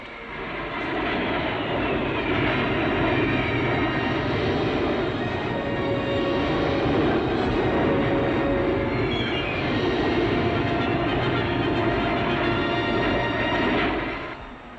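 Aerobatic planes wheel and turn in formation, their engines merging into a loud, sustained roar that swells and holds steady for nearly the whole stretch before easing off at the end.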